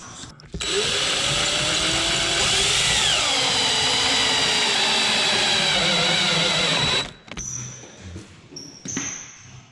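A power drill drives screws into Versetta Stone veneer panels on a wood stove chimney wall, one long steady whirring run with a rising pitch sweep partway through, then stopping, followed by faint handling clatter.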